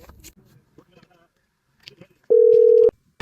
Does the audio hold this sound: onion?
no